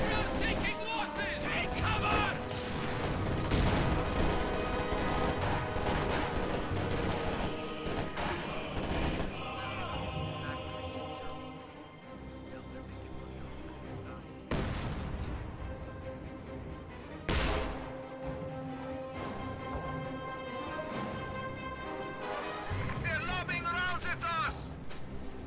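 Heavy mortar blasts and rolling gunfire fill a Company of Heroes 3 strategy battle, with dense overlapping shots and booms throughout, loud and continuous, under a commentator's steady talk.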